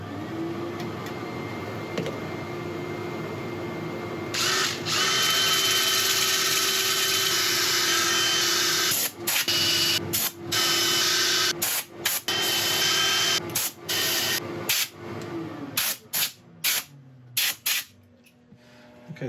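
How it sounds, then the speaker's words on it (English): Sanding a wooden burl bowl spinning on a woodturning lathe gives a steady close whirring hiss with a low motor drone, broken near the end by several short stops and starts. "I'm going to start sanding this."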